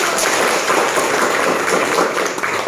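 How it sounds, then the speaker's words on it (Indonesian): Classroom applause after a group's geometry presentation, a dense, steady wash of many hands clapping together, fairly loud and continuous for a few seconds. "Oke, tepuk tangan dulu."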